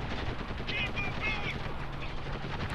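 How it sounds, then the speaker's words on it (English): Sustained automatic gunfire from the video game Spec Ops The Line, a dense continuous rattle of shots with battlefield noise layered throughout and faint chatter mixed in. "Terrible ass blind firing going on over here"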